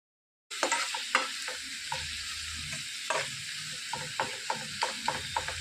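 Onions and green chillies fry in hot oil with a steady, bright sizzle close by, punctuated by repeated stirring clacks and scrapes of a spatula in the pan.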